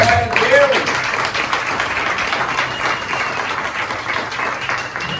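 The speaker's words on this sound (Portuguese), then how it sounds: "dê ao Senhor um forte aplauso" A church congregation claps and cheers in a sustained wash of applause, fairly loud and even, tapering slightly toward the end.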